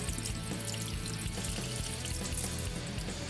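Rinse water poured off rice through a strainer in a home kitchen, Filipino-style cooking: a steady, loud, continuous splashing rush that fills the whole stretch with no talking.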